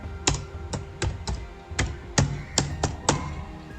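Close, crisp keystrokes on a computer keyboard, a handful of separate taps spaced irregularly over a few seconds with no talking.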